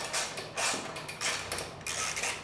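Ratcheting socket wrench with a 12 mm socket clicking in short bursts while the tension is adjusted on a motorcycle DID 520 chain kit, close and fairly quiet, no talk.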